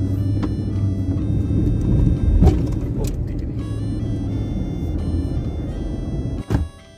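Car engine rumbles steadily as the vehicle is driven and turned on a shortcut road, low and continuous with a couple of brief thumps, while someone talks over it.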